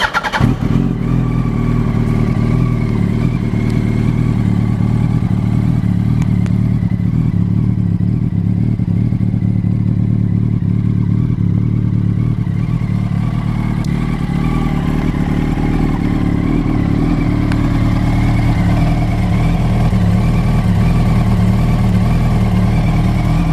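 A 2007 Yamaha YZF R1 motorcycle with just over 10,000 miles starts with a brief burst, then settles into a steady, loud, close engine idle that holds evenly throughout, with no talking.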